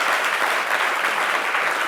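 Brief, dense clapping in a radio studio, close and steady throughout a short burst.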